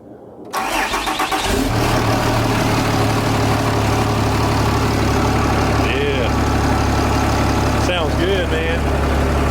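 A 6.7 Cummins diesel swapped into a second-gen truck starts up and settles into a steady, loud, throaty idle through a straight-pipe exhaust, close by, with brief voices partway through.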